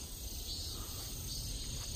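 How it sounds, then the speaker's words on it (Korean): Cicadas buzz in a continuous, high shimmering drone at a countryside farm garden, steady and moderately faint throughout with no voices. "매미가 완전 맴맴맴맴 하며."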